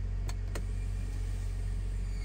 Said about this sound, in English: we're going to pull the parking brake and set it